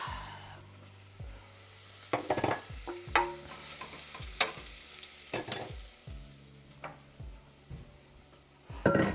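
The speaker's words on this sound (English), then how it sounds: "Fry up all of that onion inside of the oil." Onions frying gently in oil for dal makhani, a continuous soft sizzle broken by repeated clinks and scrapes of a utensil stirring the pan, close and moderately quiet, no voices.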